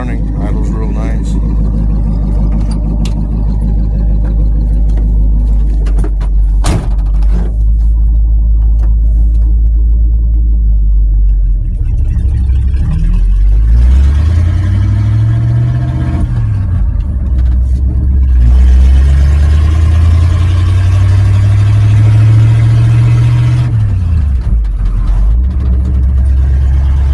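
A hot rod car engine idles with a deep, loud rumble close by. Partway through, its pitch twice climbs and falls as it revs, then settles back to a steady idle.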